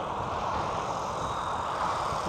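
Arrma Grom mini RC buggy running fast on a 3S battery, a steady high electric whine with tyre roar that stays loud and even throughout, with no talking.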